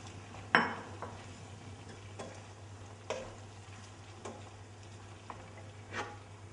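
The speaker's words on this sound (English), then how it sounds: "Now I add the tomatoes to the frying pan with the olives," Tomatoes, olives, prosciutto and porcini mushrooms sizzle faintly in a frying pan, a soft steady crackle broken by a few sharp clicks of a utensil stirring them.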